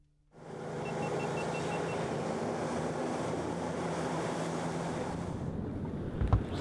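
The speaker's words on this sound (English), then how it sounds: "All we could hear were the crashing waves on the shore." Waves break on the shore of a remote island in the Andamans, a steady broad wash of surf with wind close to the microphone, no voices, ending in a brief knock.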